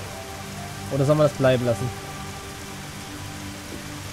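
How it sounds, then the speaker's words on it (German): Rain falling in the survival video game Dig or Die, a steady soft wash of patter running through the whole stretch while someone speaks briefly in the middle. "Oh! Es regnet."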